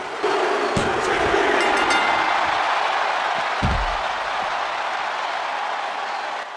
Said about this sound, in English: The crowd erupts in cheers as Gargano celebrates his win